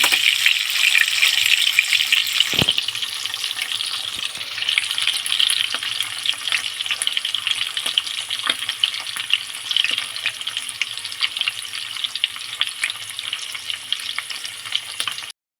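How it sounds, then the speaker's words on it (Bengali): Steady, bright sizzle of a duck egg frying in a hot pan, continuous throughout with a brief sharp clink early on and no talking. "ডিমটাকে ভালো করে ভালো করে ভেজে দিই"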